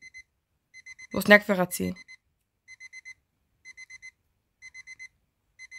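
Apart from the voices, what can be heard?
alarm clock ringing at 11 pm in a video game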